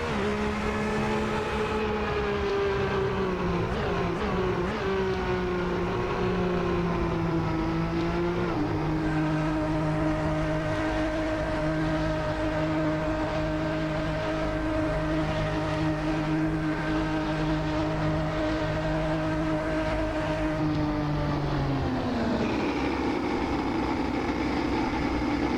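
A vintage Ferrari 641 Formula One car's engine in Assetto Corsa hums steadily and loud for a long stretch, holding near-constant revs with a pitch step partway through, then winding down near the end; no voices.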